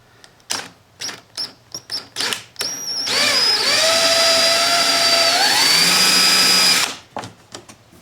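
A power drill bores a hole while a Rycomoto street kit is fitted to a Polaris Ranger, a steady high whine lasting about four seconds after a few short taps and clicks, close and loud.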